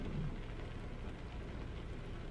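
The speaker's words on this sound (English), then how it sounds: "It's raining." Steady, soft rain in American Truck Simulator, heard from inside an International 9900 truck cab as a low continuous patter with faint rumble, no voices.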